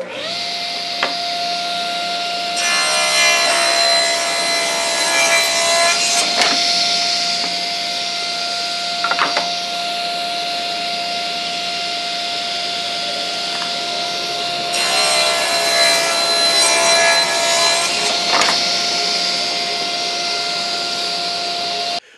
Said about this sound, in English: Now I'm just going to take a moment to trim these all to width.